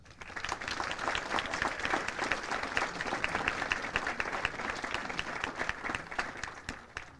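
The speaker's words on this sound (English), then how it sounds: "please join me in giving our awardees a round of applause" Steady applause from a sizable crowd at a military graduation ceremony, dense and sustained for several seconds at an even level, with no talking over it.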